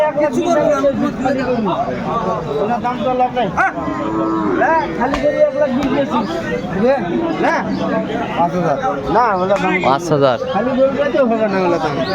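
Cows moo repeatedly at a busy village cattle market, the Aftabganj haat, where dairy cows are sold with their calves, the lowing rising over a dense crowd of chattering people and trading talk throughout.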